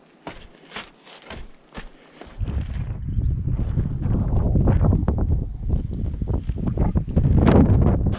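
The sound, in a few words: wind blowing on the suspension bridge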